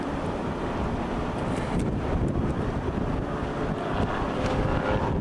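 Strong wind being pulled in toward a tornado in Texas roars and buffets against the microphone in heavy continuous gusts, close and loud with no talking.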